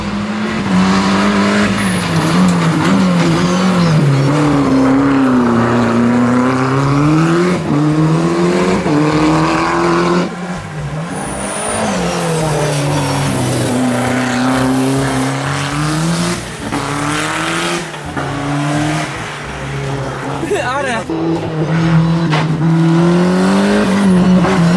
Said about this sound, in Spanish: Este coche es un coche de carrera, es un coche que frena bien, que se sujeta muy bien, tracción a las 4 ruedas